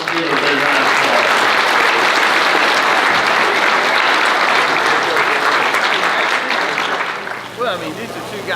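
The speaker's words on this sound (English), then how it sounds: "Let's give her a big round of applause." Loud, dense audience applause at a football touchdown club banquet. Voices mix into the clapping, which stays strong for most of its length before tapering off near the end.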